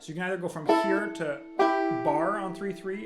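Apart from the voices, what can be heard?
None of the usual background noises is heard.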